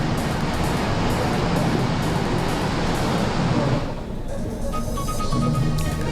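Flood water surges down from the mountains after a cloudburst, a loud continuous broadband roar of rushing water that dips briefly before returning, with faint higher tonal sounds appearing toward the end.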